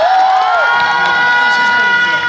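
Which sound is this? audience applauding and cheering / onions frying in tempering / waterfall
audience applauding and cheering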